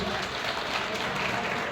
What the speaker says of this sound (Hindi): आपकी जोरदार ताली लेनी चाहिए स्टूडेंट्स प्लीज